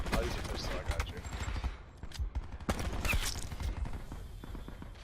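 Pistol fire in a video game rattles in dense, fast bursts of sharp cracks under loud, excited talk. The shots blur into a steady clatter that carries through the whole stretch.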